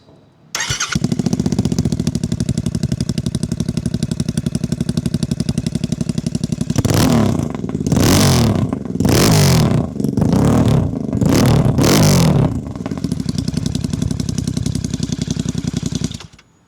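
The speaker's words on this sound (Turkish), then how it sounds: "Makineyi bir çalıştıralım." A Royal Enfield GT 650 motorcycle engine cranks and starts, then settles into a steady idle broken by five sharp throttle blips that rev up and fall back, before the engine is shut off, heard up close with no talk.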